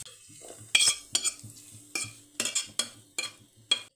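A spoon scrapes sautéed onion and garlic out of a pan onto a plate while cooking traditional Maharashtrian maswadi, giving a series of sharp metallic scrapes and clinks in irregular bursts against a quiet, faintly sizzling background.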